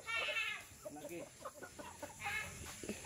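Farmyard chickens in a rural province cluck and cackle nearby in short, uneven calls, with people talking quietly in the background.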